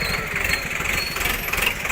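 A Swaraj 855 tractor at a tractor market runs with a steady, loud, close engine rumble and a rough, even vibration throughout.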